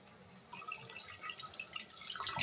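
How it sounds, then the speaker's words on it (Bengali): Tap water runs and splashes over katari rice being rinsed in a kitchen, starting suddenly after a quiet moment and continuing as a close, bright trickle and patter. "রান্নাঘরে আমার এই পানির শব্দটা অনেক বেশি ভালো লাগে আর এ তো চাল ধোয়াটাও হয়ে যাচ্ছে"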